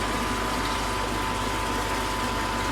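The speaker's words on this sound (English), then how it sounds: "the upflow filters, or should I say the JK double barrels, up and running" A JK double barrel upflow koi pond filter runs with water flowing through it, making a steady, dense rushing and gushing wash with a faint constant hum underneath, close and unbroken.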